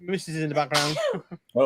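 A single sharp sneeze bursts out close by amid casual talk, brief and loud, with voices speaking just before and after.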